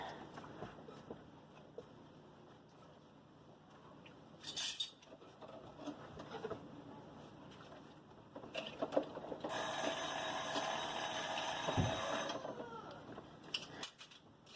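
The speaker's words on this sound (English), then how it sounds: "That was my daughter's timer." A kitchen timer alarm rings steadily for about three seconds during pizza dough preparation, a bright electronic tone over quiet room noise with faint handling sounds before it.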